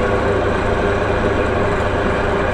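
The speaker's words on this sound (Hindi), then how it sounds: "आप फील कर पा रहे होंगे मोटर चल रहा है।" A three-phase electric motor runs after being switched on through a DOL starter, producing a loud, steady, unbroken drone and hum that holds level throughout.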